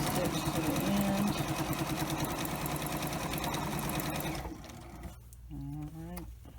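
A sewing machine rattles in a fast, even stitching rhythm while chain-sewing face masks, then stops and someone talks quietly over faint handling noise.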